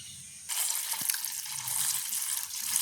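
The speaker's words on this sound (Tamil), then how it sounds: "இன்னொரு தண்ணியில் கழுவி எடுக்க போகிறோம்" Steady rushing water as peeled cassava roots are rinsed in a tub, starting abruptly and continuing with splashing and sloshing throughout.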